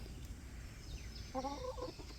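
Five-year-old black Australorp hens give a brief, soft burst of clucking over a steady background rumble.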